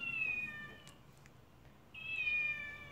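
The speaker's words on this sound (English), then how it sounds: "Oh, is that the cat?" Domestic cat meowing twice, a drawn-out tonal meow followed by a pause and a second similar meow, fairly close and clear over a quiet indoor room.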